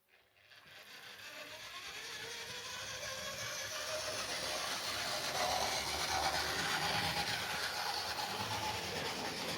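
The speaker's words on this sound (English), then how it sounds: "This locomotive is a little bit noisier" A locomotive running forward round a track gives a steady, continuous mechanical rumble and rattle that starts abruptly and holds at an even level throughout, with no talking.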